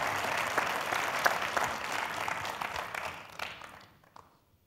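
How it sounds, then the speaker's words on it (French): A conference audience at a round-table event claps in a steady burst of applause that thins out and fades to silence within a few seconds. "on peut les applaudir"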